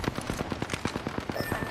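A short, fast burst of automatic gunfire in a video game, roughly a dozen evenly spaced shots in quick succession at steady volume.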